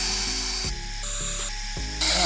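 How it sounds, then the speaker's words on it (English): A power drill bores into a rock tumbler topper, whining steadily at high pitch and shifting tone in stages as the bit works through the hard material, close and loud with no talking. "I think I'm gonna use my drill instead of my Dremel"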